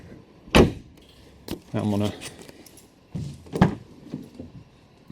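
Door of a Chevrolet SS sedan unlatching and swinging open, a sharp clunk followed by a rattling creak and further thuds, heard up close with someone talking briefly.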